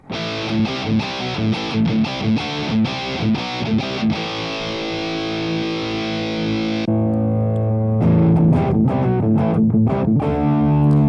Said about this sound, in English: if you got that dirty amp, you got to dirty it up some to get that good drive sound